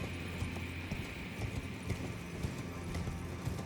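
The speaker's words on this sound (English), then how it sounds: "I'm getting back on the horse though" Steady, rhythmic clip-clop of horse hooves at an even gait in Elden Ring Shadow of the Erdtree, moderately close, with a low ambient game backdrop and no talking.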